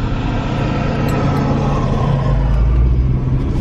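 A car drives along on an evening outing, its steady engine drone and road rumble filling the cabin without a break.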